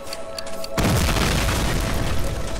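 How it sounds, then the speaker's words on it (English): Explosions in Medal of Honor: Allied Assault, blown tank targets, break in as a sudden heavy boom after a quiet moment, then a loud rumbling roar that continues without talk. "I'm not even going to look at the explosions"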